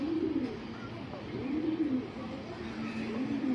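Chocolate racer pigeons coo steadily at close range, low rolling coos repeating in a loose rhythm over a constant background hum.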